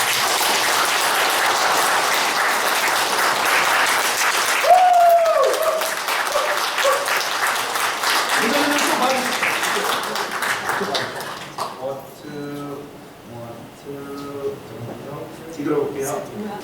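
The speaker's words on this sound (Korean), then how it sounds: "박수 부탁드리겠습니다." An audience applauds at an association's founding ceremony: dense, steady clapping from many people, with a voice rising briefly over it. The applause thins out into scattered claps and murmuring chatter toward the end.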